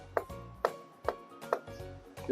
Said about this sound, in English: A crescent cut is used for a vegetable you want to leave the skin on